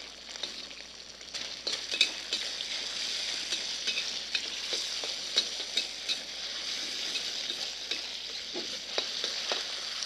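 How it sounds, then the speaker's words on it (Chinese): Sliced meat frying in about six tablespoons of oil in a wok, with a steady close sizzle broken by scraping and clinking stirs throughout and no voices. "用这个6汤匙的油呢，把这个肉片呢给它过一下油"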